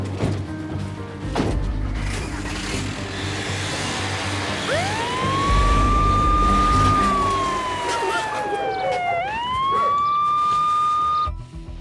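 An ambulance siren wails over rumbling traffic, its tone sweeping up and down as the vehicle pulls away, loud and continuous throughout.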